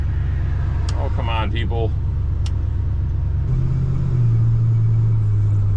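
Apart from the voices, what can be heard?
1978 Dodge Ram crew cab truck accelerating through gears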